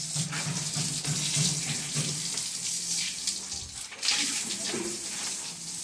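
Water runs and splashes steadily while cows are bathed with soap for Mattu Pongal, a continuous close hiss with faint voices now and then.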